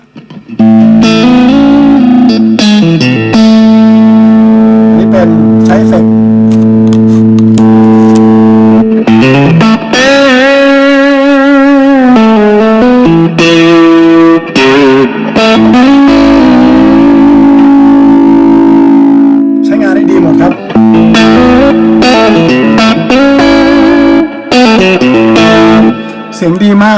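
An electric guitar played through an OD1 clone overdrive pedal rings out loud and close, with sustained, sweetly distorted notes and chords, sliding bends and a thick midrange, and no talking.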